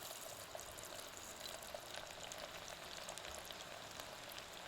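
Garlic pieces dropped into hot oil in a village kitchen make a steady, bright sizzle with fine crackling, continuing evenly at moderate level with no voices.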